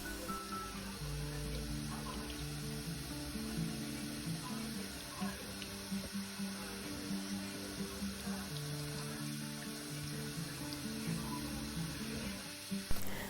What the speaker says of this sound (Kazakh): Екі бетімен қызарғанша жақсылап қуырып аламыз.